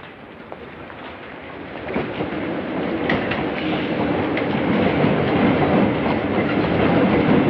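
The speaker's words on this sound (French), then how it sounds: "Pas de Paris sans métro." A Paris metro train rumbles along, wheels clattering and carriages rattling in a loud, building roar with sharp metallic clicks and screeches scattered through.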